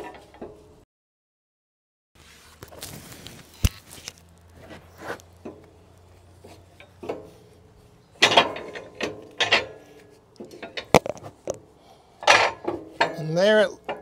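A steel plate on a log splitter drops into place as it is slid in at an angle, giving sharp metallic clanks and rattles between quieter handling noises, close and intermittent.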